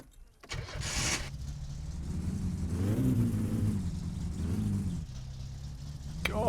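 A car engine in the game My Summer Car revs unsteadily as the driver struggles to hold the revs, rising to a strained peak and then sagging back toward a stall.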